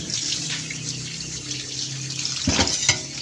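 Running water pours steadily over freshly gathered seashells being washed, with a couple of louder splashes and clatters near the end.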